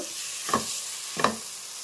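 Oil sizzles softly in a pan for rui fish pulusu, broken by two brief spatula scrapes about half a second apart.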